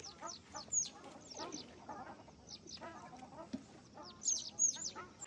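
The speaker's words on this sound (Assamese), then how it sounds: "আপোনালোকে ইয়াতে বিভিন্ন ধৰণৰ চৰাই চিৰিকটি মাত শুনিব অকণমান শুনক" Assorted birds calling at the Maguri Motapung wetland in Tinsukia, a busy overlapping mix of chirps, whistles and quacking or clucking calls, moderately near and continuous.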